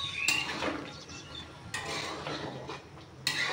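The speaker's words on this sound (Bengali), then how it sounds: "দেখতে পেলে এখানে গরম মশলা দেওয়ার পরে একটু ভালোভাবে নাড়িয়ে ঘাটিয়ে নেওয়ার পরেই কিন্তু আমার হয়ে যাবে।" Soybean curry with garam masala is stirred in a metal pot, with a utensil scraping and clinking against the sides in a few faint, close strokes over a low background hiss.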